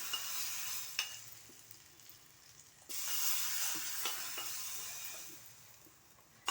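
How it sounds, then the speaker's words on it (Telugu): A hot tempering of onion, mustard seeds and cumin sizzles into a tomato chutney with a steady, loud hissing crackle, surging sharply halfway through as it hits the chutney and then slowly fading, no voices. "సుయ్యమని ఆ సౌండ్ మటుకు భలే ఉంటుంది అబ్బా పచ్చడి తాలింపు వేసినప్పుడు"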